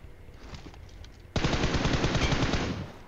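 Automatic gunfire in the mobile battle royale game BGMI: faint distant shots first, then a sudden loud, sustained burst of rapid fire close by, with no talking.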